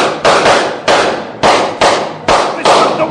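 Gunshots fired at a wagon in a Sherlock Holmes radio drama: six loud, sharp blasts spaced roughly half a second apart, each with a short decaying tail, close and dominant.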